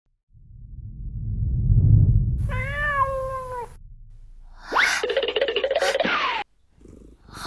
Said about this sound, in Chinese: 这是李少收养的流浪猫。